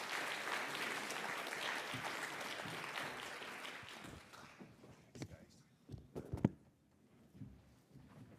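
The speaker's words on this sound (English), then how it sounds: "Can I get a really loud round of applause for our panelists here?" A summit audience applauds its panelists with dense, sustained clapping that thins out after a few seconds into scattered claps and faint shuffling, with some talk underneath.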